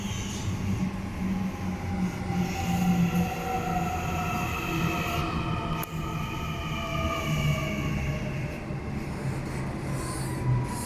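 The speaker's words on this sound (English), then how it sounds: "So got an M set." An M set passenger train at Granville station, a steady rumbling roar of rolling carriages with faint high wheel squeal, continuous and fairly loud throughout.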